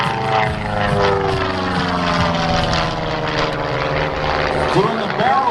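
Propeller aircraft performing a barrel roll at the Blue Angels Homecoming air show, a loud continuous engine drone with shifting pitch as it carves through the maneuver, with crowd or announcer voices mixed in underneath.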